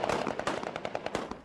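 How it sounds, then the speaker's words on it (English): Bursts of automatic machine gun fire from armed men in the Afghan mountains greeting their leader, rapid sharp repeated cracks fired in quick succession at middle distance, with no voices. "there was a little show of gunfire by his men to greet him"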